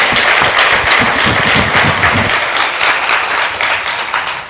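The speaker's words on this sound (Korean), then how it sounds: "우리 하나님, 영광의 박수 한번 올려드리겠습니다." A church congregation gathered for its 26th anniversary service applauds in praise, a loud, full round of clapping from many hands that fades gradually toward the end.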